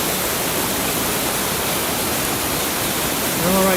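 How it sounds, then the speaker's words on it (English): Running water beside a waterfall at the end of a snowy hike, a dense, even rush of falling water filling the whole scene loud and close, with a faint tonal hint near the end. "I like to sit next to the running water."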